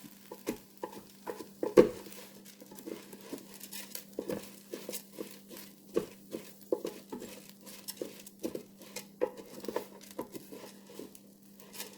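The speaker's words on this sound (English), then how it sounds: "We're going to toast that for about 1 minute." Rinsed rice toasting in a pot for a curry chicken and rice meal, giving a steady close run of light crackling, ticking and scraping stir strokes over a low constant hum, with no voices.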